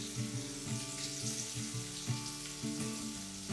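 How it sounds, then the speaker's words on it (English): Bacon frying in a pan, rendering its fat, with a steady close sizzle and crackle and irregular pops throughout, heard alone without talk. "Gonna cook this bacon, and the fat that's rendered I'm gonna use to saute my vegetables."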